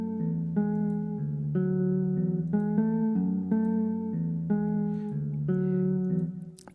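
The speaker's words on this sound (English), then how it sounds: "The guitar sound comes from Omnisphere 2," A guitar patch from the Omnisphere 2 software synth, used in an Afro house track, plays alone in a steady, looping pattern of sustained chords with regular changes, continuous and fairly loud.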